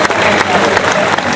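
Audience applause at an Australian zoo show, dense steady clapping from a crowd filling the whole moment, close and loud with no pauses.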